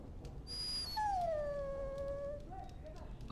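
A dog in Dragon Age: Origins whimpers in a long, high, drawn-out whine that slowly falls in pitch, heard alone against quiet game ambience, with a brief higher tone just before it.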